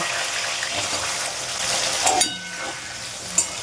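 Pieces of elephant foot yam fry in hot oil with a continuous close sizzle, marked by a brief louder hiss and a small clink near the end.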